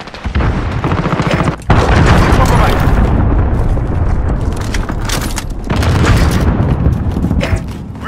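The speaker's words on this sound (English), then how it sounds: "Allied cruise missile on the way" In Call of Duty Modern Warfare, a cruise missile strike detonates as a loud, close, rumbling blast with sustained heavy booms and debris roar, followed by a second surge of rumble, with game voices underneath.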